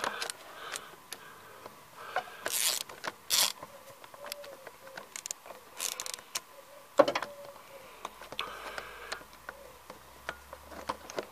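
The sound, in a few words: socket wrench loosening a glow plug on a Citroen ZX 1.9D engine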